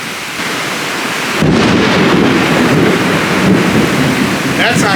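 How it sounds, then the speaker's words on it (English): Heavy rain pours down loud and steady beside an open garage during a sideways-blowing storm, with a thunder rumble swelling in partway through and staying dense to the end; no one speaks. "It's really loud in here with all this rain"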